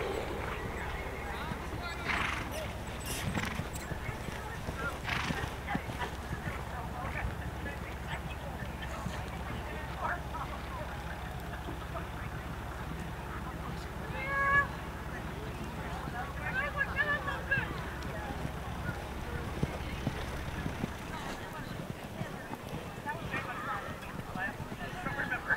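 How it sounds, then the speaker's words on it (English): Horses canter in a riding arena at a camp, their hooves clip-clopping in loose repeating beats at a moderate distance while people talk over them throughout. "Canter your horses,"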